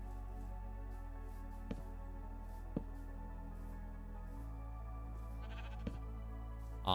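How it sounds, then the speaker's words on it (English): Sheep in Minecraft bleat several times in short spaced calls over a steady low background drone, fairly faint and with no talk. "Awesome, we have sheep."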